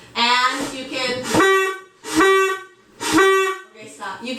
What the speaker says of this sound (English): You can actually do the handheld foghorn and look out at the view